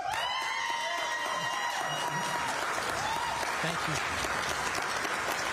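Studio audience applauding the candidates at a Seattle City Council District 3 debate, steady clapping running throughout while a host's voice speaks over it.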